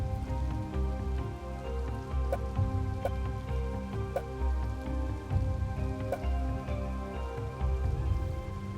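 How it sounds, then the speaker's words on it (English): Steady rainfall from the weather effect in the colony-building game Colonize, a continuous hiss of drops on surfaces running evenly throughout, with faint tones of game music beneath and sparse sharp ticks. "because of the rain effect and stuff"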